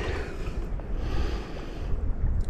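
Strong outdoor wind buffets the microphone at a Lake District lakeshore during a cold-water winter swim, a steady broadband roar with gusty swells and no voices.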